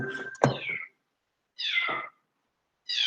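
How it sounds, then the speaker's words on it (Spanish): A house cat yowls loudly and close, three drawn-out cries separated by silent gaps, the first beginning amid a brief clatter. "está mi gato gritando"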